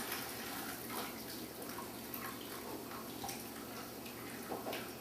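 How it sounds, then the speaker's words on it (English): Beef stock pouring through a colander into a bowl, a steady close liquid splash and trickle that runs the full length with no talk over it. "we're going to use this colander to put the stock into the bowl"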